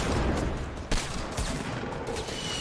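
Rapid video game gunfire, a dense continuous burst of loud shots with one sharper crack, close and alone.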